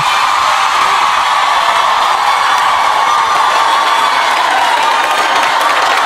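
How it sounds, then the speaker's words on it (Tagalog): A large crowd of Filipino overseas workers in Hong Kong shouting and cheering continuously, a loud dense roar of voices that holds steady throughout. "Sigawan po ang mga OFW."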